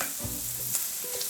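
Shrimp sizzle steadily in a pan for a one-pan Alfredo while a utensil scrapes and stirs them, close and continuous, with no voices.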